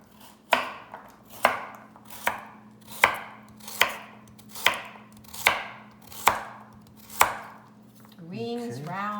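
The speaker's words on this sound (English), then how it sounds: "The carrots, I'm going to cut it in half. I'm going to just make carrot rings." A knife chops carrots into rings about a quarter inch thick for a veggie stir-fry: about ten sharp, close cuts in a steady rhythm, each roughly under a second apart, followed by a brief different sound at the end.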